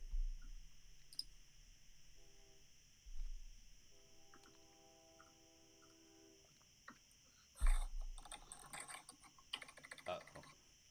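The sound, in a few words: computer keyboard keys being pressed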